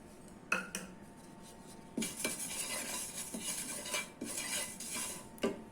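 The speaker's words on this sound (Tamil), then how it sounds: "இப்போ நான் சோம்பு போடுறேன்." Fennel seeds are tipped into a pan and dry-roasted for homemade curry masala powder, with quiet scattered clinks and scrapes of a spoon against the metal.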